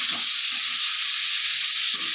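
Soaked Gobindobhog rice frying in a pan gives a constant loud sizzling hiss, with soft low stirring scrapes at intervals and no talking.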